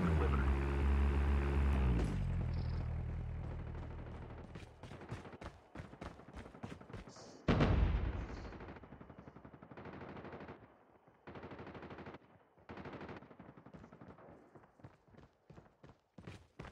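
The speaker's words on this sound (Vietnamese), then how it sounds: "Đây ở phía này còn có tiếng súng nổ." Gunfire at a shooting range in Call of Duty: rapid automatic bursts and single shots crack in irregular clusters, loud at first, with sharp gaps of quiet between volleys.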